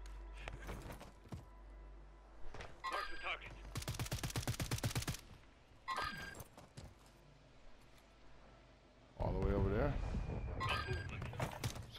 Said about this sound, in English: someone's shooting over to the left.